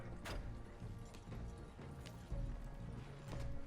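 Horse-drawn tactical wagon rolling along in Red Dead Online, with steady clip-clop of hooves, a brief whinny early on and a dense rumble of wheels, continuous and fairly loud without speech.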